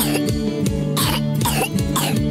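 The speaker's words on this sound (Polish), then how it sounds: "Słyszałam kaszel." Repeated harsh, throaty wet coughs in quick succession, loud and close, with a rough, phlegmy edge.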